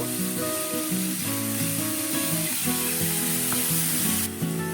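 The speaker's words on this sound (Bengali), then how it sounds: "এটা আমি হালকা ভেজে নিচ্ছি।" Onions sizzle steadily in hot oil in a pan, stirred now and then for a Hariyali chicken curry, a dense continuous frying hiss with scraping and a faint tonal hum underneath, without speech.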